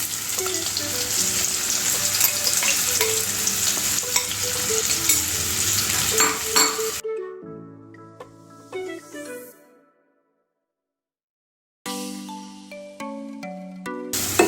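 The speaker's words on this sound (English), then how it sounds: "And I will stir this till it turn to brown color." Chopped onion with turmeric powder frying in a pan gives a loud, busy sizzle with repeated stirring scrapes for several seconds, then it cuts to a tinkling melodic jingle, a short silence, and more chiming tones.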